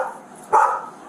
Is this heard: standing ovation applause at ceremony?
no